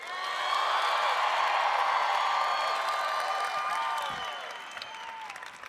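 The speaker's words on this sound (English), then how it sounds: "Let's give one more round of applause for Braden and Emily." A huge convention arena crowd at a national FFA convention applauds and cheers, a loud sustained roar of clapping mixed with whoops and shouts that swells, holds, then gradually thins out toward the end.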